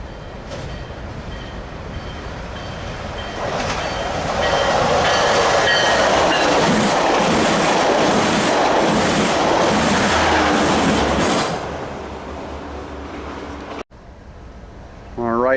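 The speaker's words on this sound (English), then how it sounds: "We have an eastbound port stacker about to pass right now." An eastbound port stacker freight train rumbles past close by, loud and continuous, with rolling wheel clatter and some squeal. It swells, holds for several seconds, then eases off.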